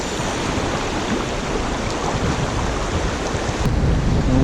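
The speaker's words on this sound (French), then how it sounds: "vous voyez les rafales de vent qu'il y a" Gusty wind roars across a riverside fly-fishing spot, a loud, steady broadband rush that swells and buffets without pause, with no voices.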